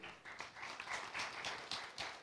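Applause from a startup pitching competition audience, a short burst of scattered clapping at moderate distance, fairly dense and lasting a couple of seconds.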